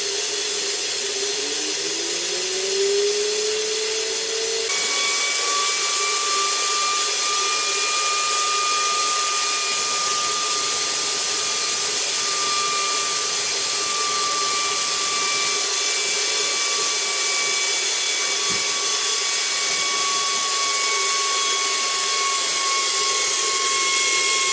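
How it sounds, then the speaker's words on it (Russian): Compressed air drives a turbocharger on a turbine balancing stand, starting with a rising whine and then settling into a steady high-pitched turbine whistle over a constant loud airy hiss, with no talk. "Включаем подачу воздуха, настраиваем обороты."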